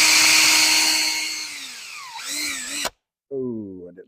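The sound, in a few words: drilling through knife handle scales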